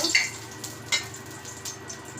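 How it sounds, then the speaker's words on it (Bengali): Pangas fish frying in melted pangas fish oil in a pan, a soft steady sizzle with a few brief spitting pops and splatters near the start and middle, no talking. "পাঙ্কাশ মাছের তেল দিয়া এখন আমি পাঙ্কাশ মাছ ভেজে নিব একটু ছিটবে অবশ্য"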